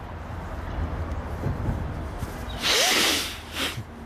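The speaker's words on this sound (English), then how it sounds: "Sorry, blow my nose." A person blows their nose, a loud snorting burst of breathy noise lasting about a second, then a shorter second blow, over quiet room background.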